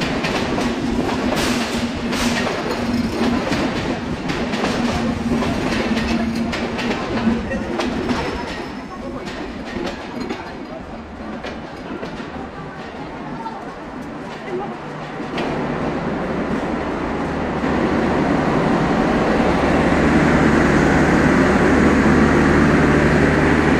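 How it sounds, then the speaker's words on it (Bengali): Intercity Chilahati Express passenger train pulling into platform 1 at Natore railway station in Bangladesh, locomotive series 6633; a steady loud rumble and rail clatter with rhythmic wheel clicks, deepening as the train slows, with people talking nearby. "চিলাহাটি এক্সপ্রেস ট্রেনটি এই মুহূর্তে নাটোর রেল স্টেশনের 1 নম্বর প্ল্যাটফর্মে প্রবেশ করছে"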